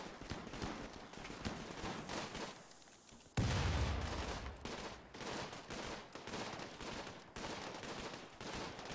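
Turrets in the colony game RimWorld fire repeated bursts of rapid gunshots. The sharp cracks and clusters come in uneven volleys, with one louder, deeper boom partway through, and they go on steadily and fairly far off.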